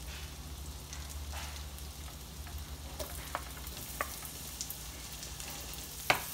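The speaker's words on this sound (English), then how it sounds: "we're just gonna let these saute a little bit in our oil and butter just for a few seconds." Garlic and sun-dried tomatoes sauteing in oil and butter in a pan, a soft steady sizzle with faint scattered pops and an occasional utensil tap, heard up close and quiet.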